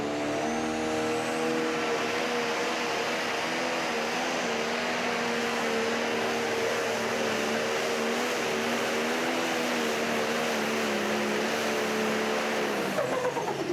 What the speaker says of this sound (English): That's a great tractor for sure, and he gives it a good effort at 318 and 70.